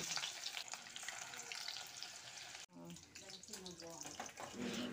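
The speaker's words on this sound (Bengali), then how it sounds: "চুবিয়ে নিয়ে তেলে ছেড়ে দিচ্ছি।" Batter-dipped banana flower pakoras fry in hot oil, giving a soft, steady sizzle that cuts out briefly, then returns more quietly beneath a voice speaking.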